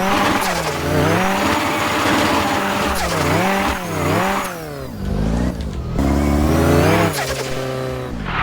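A custom turbocharged car with manual transmission and clutch in the Roblox A-Chassis game revs up and down in repeated swooping waves, engine pitch climbing and falling loudly with brief drops between gear changes.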